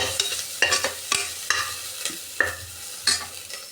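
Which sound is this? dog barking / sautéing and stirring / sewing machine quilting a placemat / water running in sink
sautéing and stirring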